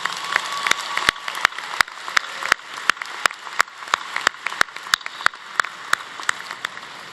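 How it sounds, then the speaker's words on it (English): Applause at a university spring commencement, with graduates clapping for their loved ones; sharp, distinct individual claps ring out in a fairly regular rhythm over a softer background patter, close and clear. "Graduates, let's give our loved ones a big round of applause."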